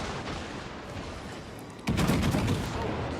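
Secondary guns of the battleship Bismarck firing in World of Warships, a sharp burst of booming shots at the midpoint that leaves a heavier rumbling barrage continuing to the end.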